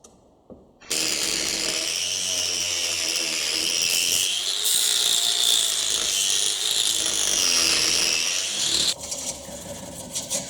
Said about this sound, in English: Turn the timber into a bowl shape